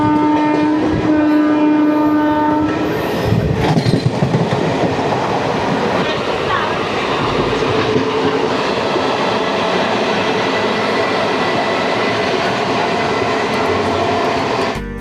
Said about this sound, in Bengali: এই মা তারা এক্সপ্রেস কিন্তু অনেক দিনের পুরনো একটা ট্রেন।